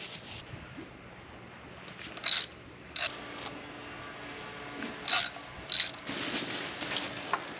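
A hand ratchet works loose the power steering pump bracket on a junkyard 6.0 LS LQ4 V8 during teardown, with several short, sharp bursts of clicking separated by quieter pauses, close up and on its own.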